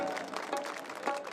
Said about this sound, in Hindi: तालियां एक बार